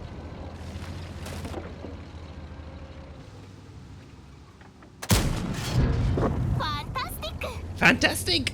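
A tank cannon fires in the World of Tanks video game during a holiday event battle: a sudden loud blast cuts through a low engine drone and is followed by heavy rumbling and crackling, with a voice speaking over the game.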